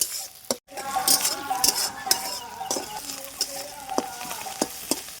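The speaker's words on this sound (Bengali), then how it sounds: "একদম মুচমুচে করে ভেজে নেব" Flattened rice (chira) dry-roasting without oil until crisp, stirred in a pan with scattered utensil scrapes and light clinks over a faint, uneven crackle, briefly cut by a silent gap near the start.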